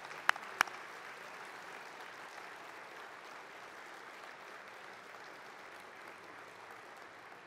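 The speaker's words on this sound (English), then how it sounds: "So let's give them a round of applause." Banquet audience at a World War II conference applauding veterans, a soft, even wash of distant clapping that holds steady after two sharp nearby claps at the start.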